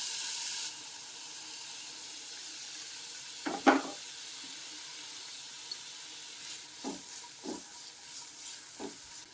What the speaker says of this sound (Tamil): எண்ணெய் சூடானதுமே ஃபஸ்ட்டு நம்ம ஆனியன் சேர்த்துக்கலாம்